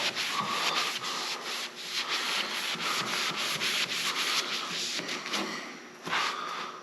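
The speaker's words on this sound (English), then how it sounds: "And I think you just rub all the extra goo off of it." Steady rubbing on a wooden surface as excess goo is wiped off, a continuous close scraping swish with short pauses and renewed strokes, no talking.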